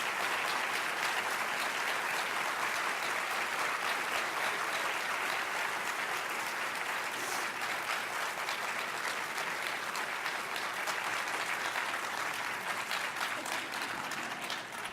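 An audience applauds after a talk, a long, even wash of many hands clapping that holds steady and slightly distant, without pause.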